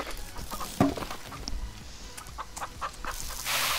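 Chickens cluck on a farm in a video game, short scattered clucks and a few sharper squawks over a soft, busy game background.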